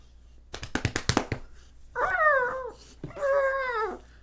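A dog whines twice in drawn-out, wavering cries after a cluster of sharp tapping clicks, close and fairly quiet in an otherwise still room.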